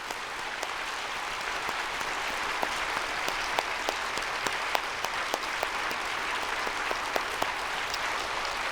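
Church congregation applauding together, a dense steady roar of many hands clapping for several seconds with scattered sharper claps standing out, no talking.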